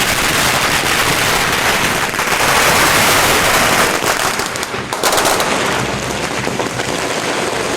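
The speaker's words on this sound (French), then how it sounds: "les volées de pétards qui éclatent dans la nuit pour faire fuir les mauvais esprits" Volleys of firecrackers burst continuously through a night-time Chinese Spring Festival celebration, a dense, loud crackling barrage with rapid overlapping pops that thins slightly near the end.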